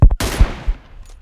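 A quick burst of two or three sharp gunshots in the game PUBG, the first cracks close together followed by a decaying echo tail.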